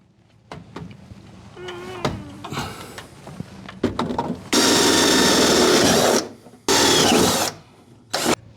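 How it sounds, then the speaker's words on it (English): A power drill with a 3/8 bit bores holes during a Flowmaster dual exhaust install on a 1966 Ford Mustang, loud whining runs of about two seconds and one second after some handling clatter and knocks. "Now we're gonna drill the holes"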